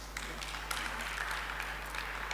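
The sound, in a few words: audience applause at a health conference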